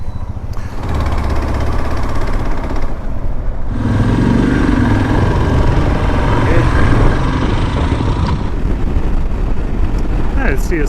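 Blustery wind beside the Northumberland Strait, buffeting the microphone with a loud, constant low rumble and roar that swells and eases slightly over about ten seconds, with no clear voices.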